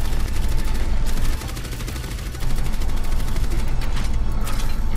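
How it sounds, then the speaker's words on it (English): Bastion's rapid gunfire from the Overwatch video game rattles in a steady, fast stream of shots. It is loud and nearly continuous for about five seconds, with a short softer stretch in the middle. "A slower shooting Bastion,"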